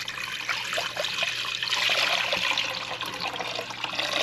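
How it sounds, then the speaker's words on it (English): Water pours steadily into a cooking pot for codfish, a continuous splashing trickle at close range without any talk. "Now I'm going to pour some water in my pot."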